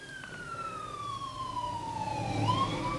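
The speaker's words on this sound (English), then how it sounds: "I have ambulance going by" An ambulance siren sweeps downward in pitch as it passes outside, wailing steadily over a low road rumble and growing slightly louder toward the end.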